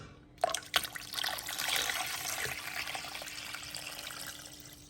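Another gallon of water is poured into a turkey brine, with a couple of sharp knocks at the start followed by a steady, soft splashing stream that runs on quietly with no voices.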